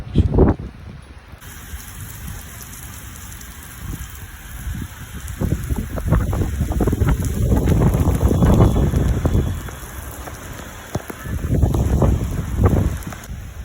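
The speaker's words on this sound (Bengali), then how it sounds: "এই পুরো দমে এখন বৃষ্টি শুরু হলো, পুরো মেঘ চমকাচ্ছে।" Heavy rain on the rooftop of a Kolkata apartment block, a dense loud wash broken by rising gusts of wind buffeting the microphone, steady throughout.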